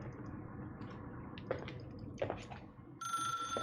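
In the video game The Suicide of Rachel Foster, a telephone starts ringing after a few quiet drips and squishy footsteps, its bell tone steady and fairly loud, without speech.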